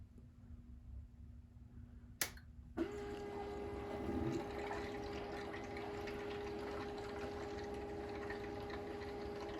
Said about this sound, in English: all of that in that little tube there is kind of bubbling and moving around